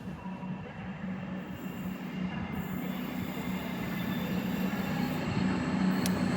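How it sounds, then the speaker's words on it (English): Avanti West Coast Voyager, units 221109 leading and 221114 at the rear, pulls out of a snowy London Euston platform: a steady low diesel rumble and rolling wheel noise swell slowly, with faint high wheel squeal near the end. "Departing out now is an Avanti Voyager service to Birmingham New Street"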